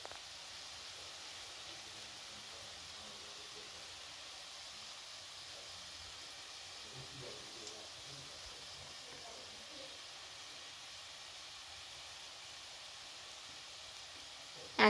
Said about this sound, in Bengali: এরপর দু পিঠ ভালো করে ভেজে নিতে হবে।